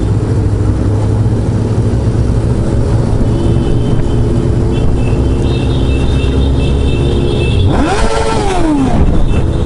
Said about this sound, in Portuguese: Olha o que tem de moto, pessoal.